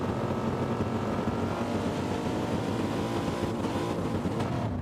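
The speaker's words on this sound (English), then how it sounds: "Revs are rising here at Mount Panorama." Supercars engines revving together on the grid at Mount Panorama, Bathurst, in a racing video game, a dense, steady, loud drone of many engines held at high revs before the start.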